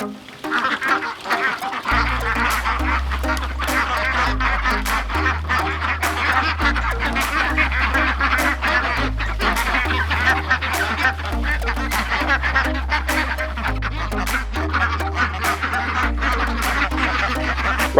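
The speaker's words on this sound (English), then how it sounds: "Right now I'm taking these ducks in their duck tractor" A flock of ducks quacks and honks continuously and loudly while being moved in their mobile duck tractor around a market garden, over a low, rhythmic pulsing thump from the moving enclosure.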